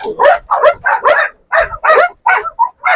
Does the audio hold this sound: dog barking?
yes